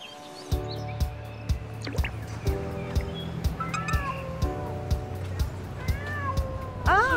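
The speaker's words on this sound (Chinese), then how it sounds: "猫咪！" A cat meows several times in a busy household, its rising, bending cries standing out over a steady hum, regular sharp ticks and a faint voice in the background.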